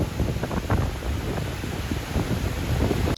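Strong wind roars steadily against the microphone, a dense, blustery rush that continues throughout.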